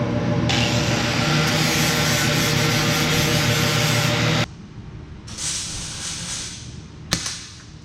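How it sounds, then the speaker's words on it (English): An angle grinder grinding paint off a vintage mini bike frame, a loud steady abrasive roar for several seconds that then drops to a quieter rough scraping with a sharp knock near the end. "Now I'm gonna grind the paint off the mini bike so I can weld."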